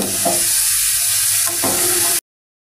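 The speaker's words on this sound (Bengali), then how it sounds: "পেঁয়াজটা ভাজতে দিলাম আর সামান্য একটু লবণ দিয়ে দিচ্ছি, তাহলে তাড়াতাড়ি গলে যাবে" Sliced onions sizzle loudly in a hot pan with a pinch of salt, a dense, steady frying hiss with faint stirring scrapes, close up and without talk, stopping abruptly after about two seconds.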